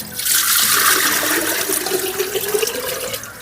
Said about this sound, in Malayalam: അപ്പോൾ അതെ പിന്നെ നമ്മൾ കലം വെച്ച് വെള്ളം ഒഴിക്കണം.